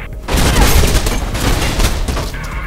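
Gunfire in the first-person parkour game Mirror's Edge: a dense, continuous volley of loud shots crackling and booming together, close and sustained throughout.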